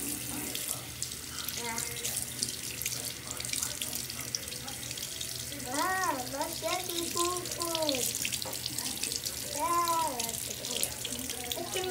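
Small hands being washed and scrubbed under a running sink tap, a steady close hiss of flowing water throughout while a child and an adult talk over it.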